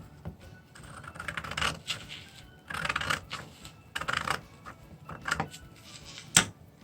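Scissors cut through folded tissue paper along an edge in short, crisp snipping bursts, close and quiet, with a sharper click near the end and no talk.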